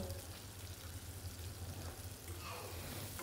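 Chopped onions sizzling in hot oil in a pan, a soft, steady crackle and hiss that stays faint and even throughout.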